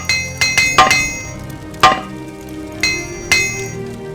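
Metallic hammer clinks from repairing with an armorer's hammer in the Morrowind video game, a handful of bright ringing strikes at uneven intervals over a steady low game ambience.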